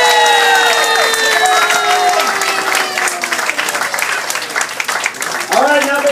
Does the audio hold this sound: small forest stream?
no